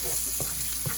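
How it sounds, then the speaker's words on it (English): Spices fry in butter in a pan for chicken biryani, giving a steady, quiet sizzle with a couple of soft stirring scrapes. "they're releasing their fragrant resins as they're frying in the butter"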